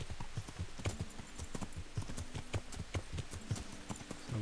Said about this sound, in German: Apfelschimmel, den soll ich doch hin und her reiten, oder nicht?